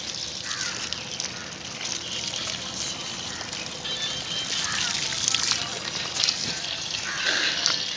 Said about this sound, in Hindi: सो भाई अभी हम खेत में पानी छोड़ रहे हैं